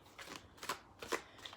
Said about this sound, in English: give these a quick shuffle